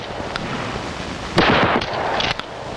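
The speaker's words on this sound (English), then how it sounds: "Hip firing is used at close range, where most confrontations do occur." A shotgun fired from the hip at close range during firearms training gives one sharp, loud blast that rings briefly, followed by a fainter crack, set against steady outdoor background noise with no talking.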